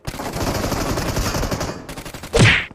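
Rapid automatic gunfire from a newly added gun in a mobile battle-royale shooter game, a steady loud burst for about two seconds, a short pause, then one more heavy blast at the end.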